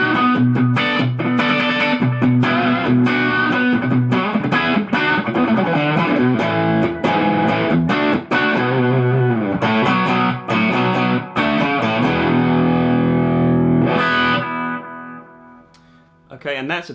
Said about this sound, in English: The second channel I've got set up for a crunchy sound, so it turns it into a totally different kind of an amplifier.